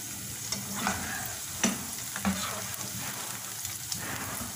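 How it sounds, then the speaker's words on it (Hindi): Onion pakoras deep-fry in hot oil in a kadhai over high heat, a dense, steady crackling sizzle close by, broken by a few knocks and scrapes as the fritters are stirred around. "थोड़ा सा हिलाते जुलाते रहेंगे ताकि बराबर से फ्राई हो जाए हर तरफ से।"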